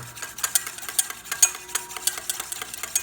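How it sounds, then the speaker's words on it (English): Whisk beating oil slowly poured into a thickening, mayonnaise-like emulsion in a bowl, a close series of regular rhythmic clicks and scrapes against the bowl, steady and unaccompanied. "the oil is going slow, the whisk doesn't stop"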